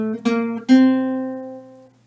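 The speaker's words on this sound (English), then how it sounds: "Or they might play a flat 7th, which gives it more of like either a bluesy or a jazzy or funky feel." Two strummed or plucked chords with a flat seventh, the second ringing out and slowly decaying, played alone with no talking; bright, harmonic tone with a bluesy, slightly subdued colour.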